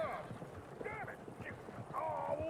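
Horses galloping in the Red Dead Redemption 2 video game, with rapid hoof clip-clops and brief whinnies under overlapping talk.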